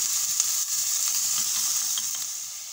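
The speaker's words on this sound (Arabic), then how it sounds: "نخلوه يتقلى بيان حتى يتكرمل شويه" Onion fries in a pan as it caramelises, giving a steady, close, bright sizzle that holds even throughout and tapers slightly toward the end, with no voices.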